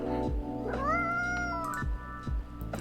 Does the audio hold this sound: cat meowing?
yes